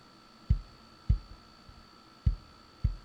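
Five deep, ungated kick drum thumps at an uneven pace, each with a short tail, over a faint steady hum and quiet background bleed.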